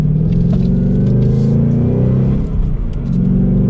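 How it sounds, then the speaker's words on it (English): A 2022 Ford Mustang GT coupe with a six-speed manual revs its engine on rev-matched downshifts while approaching a turn, a loud, close, rumbling exhaust swelling and dipping briefly, with no talking. "As we come up to a turn, we can rev match these downshifts."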